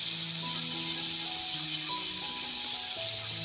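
Onion and finely chopped tomato frying in a pan for palak paneer, a steady close sizzle with faint crackles running throughout, no voices.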